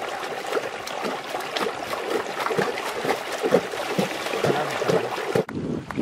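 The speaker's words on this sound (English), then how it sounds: "the streaming water flows through it to rinse out dirt and suds" Streaming water pours and trickles steadily through a basket used like a washboard, rinsing dirt and suds from Churra sheep wool, a continuous close splashing flow.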